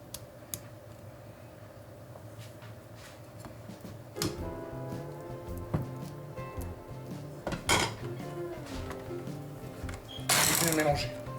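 Softened butter stirred into pastry cream in a bowl for choux filling, with light scraping and clinking of utensil against the bowl, intermittent and close, with a few sharper knocks and no talk.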